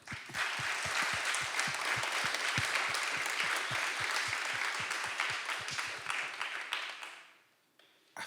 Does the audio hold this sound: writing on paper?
no